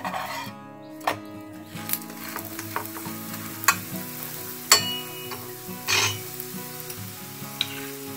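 Paneer-stuffed paratha frying in refined oil on a hot pan over high flame, a continuous loud sizzle broken by scattered sharp scrapes and taps of a spatula.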